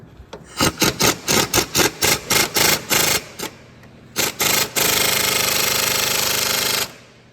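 An impact gun hammers a 3/8-inch drive Irwin bolt extractor on a seized exhaust manifold bolt of a 5.7-liter Dodge Ram 1500. It fires in about a dozen short, loud bursts, pauses, then gives one long sustained rattling run close by.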